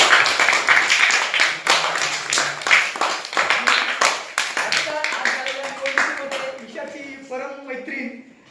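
A room of schoolchildren claps for the winner of a school cabinet election, a run of sharp, uneven hand claps that thins toward the end while voices chatter in the background.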